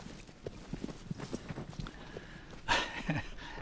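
A horse clip-clops along at a walk in the video game Shadow of the Colossus, with a steady rhythm of soft, close hoof steps and a brief louder rustle near the end.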